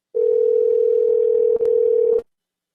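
A telephone call rings unanswered, with a single loud, steady ring tone lasting about two seconds, a brief click partway through, then silence.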